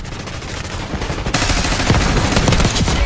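Sustained automatic gunfire in a Call of Duty Black Ops 6 multiplayer match, dense rapid bursts that grow louder and more intense midway, continuous and close.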